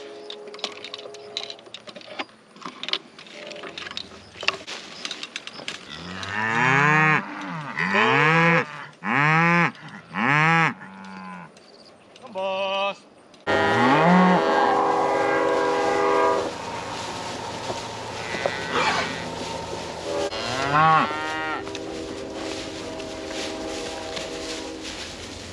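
Cattle on a farm moo repeatedly, long loud calls coming in a series, some close and some overlapping, with quieter breaks between.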